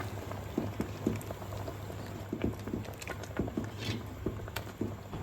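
Beef curry simmers in a pot after cooking oil is added, thick bubbling with irregular soft pops and plops, close and moderately quiet, without speech.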